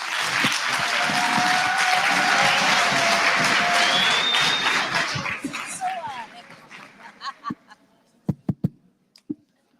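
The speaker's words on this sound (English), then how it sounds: "Let's give him a good round of applause." Audience applause at a student council induction ceremony, a dense sustained clapping crowd that stays loud for several seconds, then thins out and fades into a few scattered final claps.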